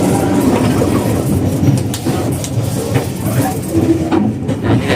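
A train rumbles steadily into Pasar Senen station in Jakarta, its wheels clattering and the carriages rolling loud and close, with a brief squeal of metal toward the end.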